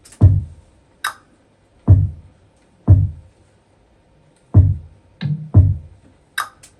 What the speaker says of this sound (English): So after that, I now added my kick, and the kick plus the 2 stuff sound like this.